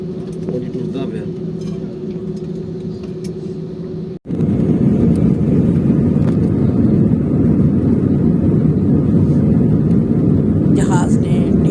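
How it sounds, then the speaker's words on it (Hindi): Airplane taking off on a flight from Qatar to Pakistan, heard from inside the cabin: a steady hum jumps to a loud, continuous broadband engine roar that holds throughout. "जहाज़ ने टेक ऑफ कर लिया है।"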